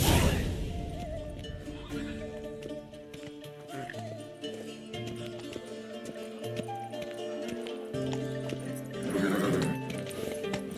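Roach, the horse in The Witcher video game, whinnies and snorts with clip-clop hoofbeats, set against layered game music and ambient tones that persist throughout.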